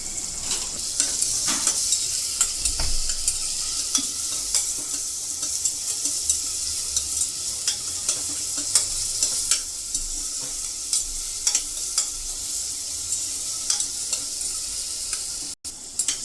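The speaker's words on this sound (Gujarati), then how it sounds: "અને આપણે તેલમાં થોડીક વાર સોટે કરશું।" Onions sauté in hot oil in a pan for vegetable soya pulao, giving a steady close sizzle broken by repeated scraping clicks of a stirring spoon, with no voices.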